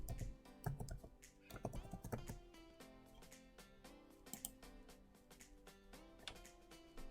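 Close typing on a computer keyboard, with quick bursts of clicky keystrokes in an uneven rhythm and a few short pauses, heard alone without talk.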